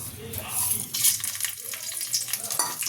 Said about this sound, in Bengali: এই তেলেই আমি ফোড়ন দিয়ে দেবো এই যে তেজপাতা শুকনো লঙ্কা আর জিরে